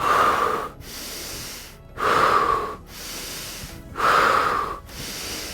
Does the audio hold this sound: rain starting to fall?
no